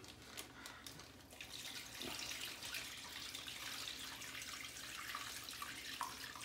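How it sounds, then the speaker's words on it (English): Brine pours steadily over meat in a continuous splashing stream, close and moderately loud, with no talking. "just pour your brine right over the top"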